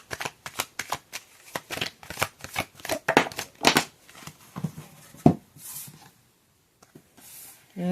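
Tarot cards shuffled by hand at close range in a series of quick riffling bursts, then a few softer handling sounds and near silence toward the end.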